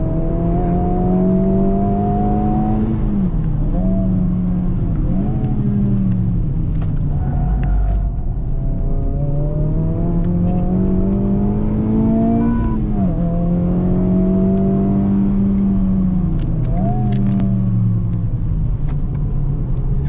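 A Honda Civic Type R FL5 laps the Hampton Downs circuit, its engine loud and continuous, pitch climbing through the gears, dropping on lifts and braking, then rising again, with no talking over it.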